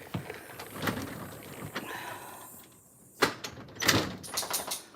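A house door opened with a scraping slide and a sharp thump partway through, then rattling and clatter nearby, heard close in a quiet home without talk.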